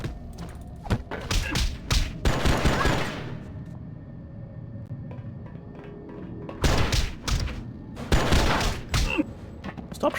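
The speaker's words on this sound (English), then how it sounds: "Stop shooting me!" Enemy gunfire in the action game Oni, heard as clustered bursts of sharp shots and thuds, loud and close, separated by a quieter stretch in the middle.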